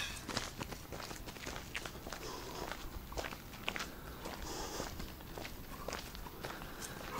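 Several people running on foot, with a steady patter of quick footsteps close by and continuing throughout, with no talking.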